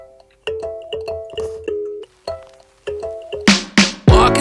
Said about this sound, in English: I used the real kalimba.